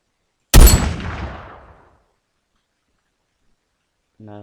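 A submachine gun in a Minecraft gun mod fires one sharp, loud bang that rings out and fades over about a second, followed by silence and a brief voice starting at the end.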